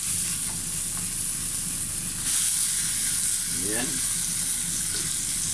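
Tilapia sizzles and fries steadily in a hot pan, a dense continuous crackle with faint stirring scrapes, and a brief voice speaks over it.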